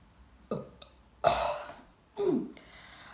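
Three separate burps in a burping challenge, the first short and sharp, then two longer, deeper belches with a clear gap between them, close and loud against a quiet room.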